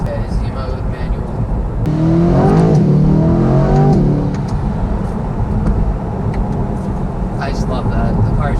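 A Corvette C8 sports car in Z mode with manual shifting accelerates hard on a loop road, its engine note climbing steadily in pitch and staying loud and close inside the cabin, with a broad rumble underneath.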